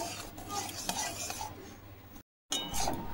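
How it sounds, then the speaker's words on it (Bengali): Curdling milk being dried in a pan while a spoon stirs and scrapes, producing repeated metallic clinks and scraping strokes over a low sizzle, with a brief dropout. "এবার আমি দুধটাকে একদম শুকিয়ে নেব, এইভাবে নাড়তে নাড়তে।"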